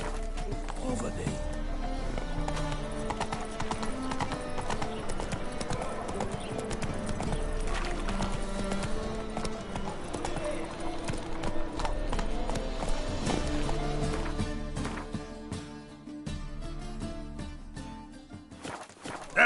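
Hooves of Roach, the horse in The Witcher 3, clop in a steady fast rhythm throughout, mixed with game music and effects while a voice talks over them.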